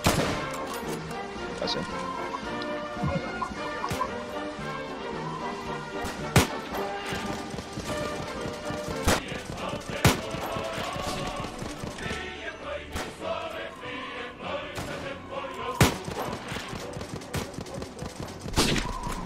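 Musket volleys in the Red and Blue video game: repeated gunfire cracks and scattered shots, some loud and close, over a busy battlefield din, with voices briefly speaking over it.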